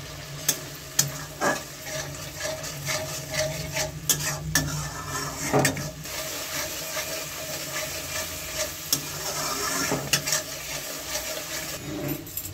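Raisins tossed into a sizzling rohu fish kalia and stirred in a pan, giving a moderate continuous fry sizzle with scattered scraping and clinking stir strokes, no voices.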